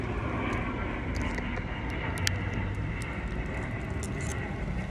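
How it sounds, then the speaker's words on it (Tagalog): A steady, broad roar of an airplane flying overhead outdoors, continuous and fairly loud throughout with faint scattered background sounds. "maingay, may eroplano sa taas."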